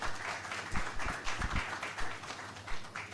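Audience applause welcoming a Deputy Governor of the Central Bank of Nigeria at a lecture event, a moderate irregular patter of hand clapping that rises and dips without a clear end.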